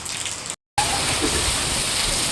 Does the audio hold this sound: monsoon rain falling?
yes